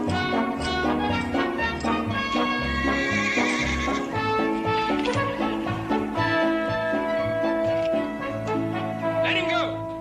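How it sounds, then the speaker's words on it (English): A horse being broken whinnies and neighs loudly over stamping hooves, while people shout and call out encouragement throughout, the neighing close and repeated in a busy, noisy scene. "That's a big old star horse."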